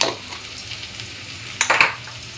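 Cumin, coriander and turmeric spices sizzling in a pan over a gas flame, a soft steady frying hiss broken by a few brief spoon-scraping clatters near the end.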